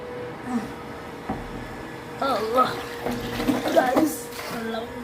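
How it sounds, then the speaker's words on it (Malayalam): Water runs from a tap in a steady wash, collected for washing a bicycle, with someone talking over the flow. "നമ്മളിതാ ഇങ്ങനെ വെള്ളം എടുത്തുകൊണ്ടിരിക്കുന്നതാണ്"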